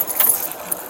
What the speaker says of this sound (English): Those are his keys.